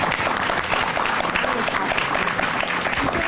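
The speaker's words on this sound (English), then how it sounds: "if we could give a final round of applause to our panelists" Audience at a newsroom ethics panel giving a final round of applause to the panelists: full, continuous clapping from a room-sized crowd, steady and close throughout.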